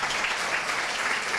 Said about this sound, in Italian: l'applauso salga più forte